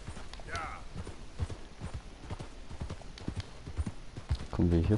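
Horse hooves clip-clop in a steady walking rhythm in the video game Red Dead Redemption 2, close and moderately loud, ending with a short whinny as a voice speaks over it.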